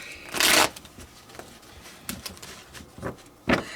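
Tarot cards are shuffled up close in quick papery riffles: one long burst, several short flicks, and a final crisp burst, with quiet gaps between them.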